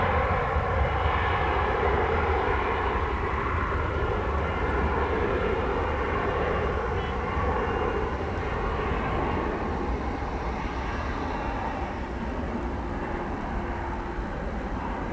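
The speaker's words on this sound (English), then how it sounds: "So it's taking off on 18 left." A fixed-wing airliner takes off from runway 18 left at DFW Airport, its engine roar loud, steady and continuous throughout, with a broad rumble and no talk.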